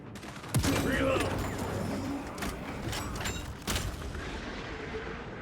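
Bursts of rifle gunfire in the Space Marine 2 video game, with sharp loud shots at the start and again near the end over a dense, noisy battle background and some talking.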